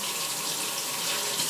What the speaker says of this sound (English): I am actually going to wash my hands.